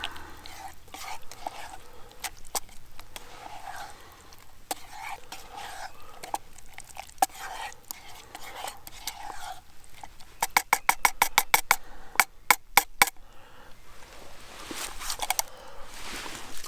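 Food being stirred in a pot on a wood-burning camp stove, a soft scraping and clinking texture that runs steadily, then a quick burst of sharp, rapid clicks near the end.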